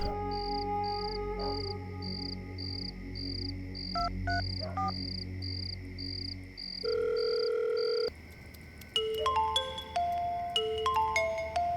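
Electronic telephone tones play alone: steady beeping pulses, then a sustained dial tone followed by a quick series of dialing beeps.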